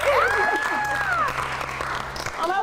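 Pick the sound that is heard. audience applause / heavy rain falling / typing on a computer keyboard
audience applause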